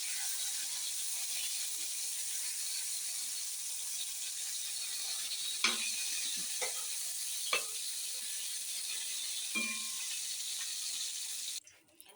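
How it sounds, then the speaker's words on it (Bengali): Tilapia fish frying in hot oil makes a steady, loud hiss that runs through the whole stretch. A few sharp scraping clicks from turning or lifting break in, and the sound cuts off abruptly near the end. "মাছটা ভাজতে দিছি হয়ে গেছে"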